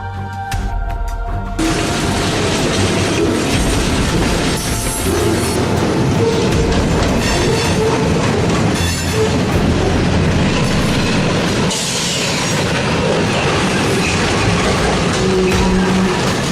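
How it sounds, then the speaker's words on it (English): A freight train rolls along the rails, loud and close, with a continuous heavy rumble, rhythmic clickety-clack of wheels over track joints and occasional metallic squeals as the cars pass. "The freight train derailment in Saskatoon was another close call."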